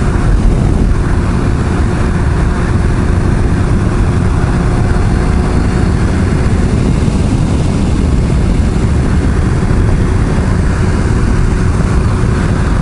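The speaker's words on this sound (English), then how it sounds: "Still hear a lot of wind noise." Steady, loud, roaring wind noise on a Yamaha YZF600R motorcycle riding at about 70 mph on a highway, a constant broadband rush over a low engine hum with no letup and no talking.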